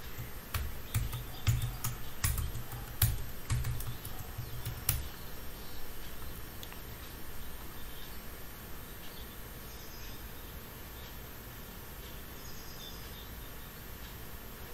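A password is typed on a computer keyboard: a short run of sharp, uneven key clicks in the first few seconds, then near silence.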